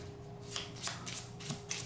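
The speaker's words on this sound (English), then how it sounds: "I shuffle." A deck of board game cards is shuffled close by, with several quick riffling bursts in a steady rhythm over a quiet background.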